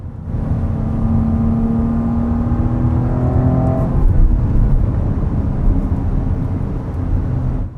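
A Fiat car engine roars steadily as it accelerates, with rising harmonic tones that shift pitch partway through, loud and close over a dense mechanical rumble.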